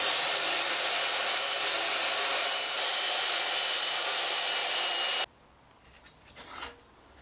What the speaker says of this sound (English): followed by a grinder with a bit of like a 40 grit pad